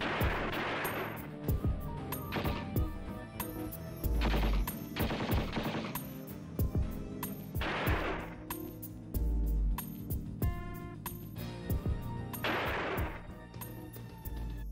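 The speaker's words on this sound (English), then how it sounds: "Joe Marshall and Frank Washington, kill some goons and how brilliantly the goons act getting shot." Rapid bursts of movie gunfire during a shootout scene in Samurai Cop, with loud repeated shots and clinking sounds recurring through the scene.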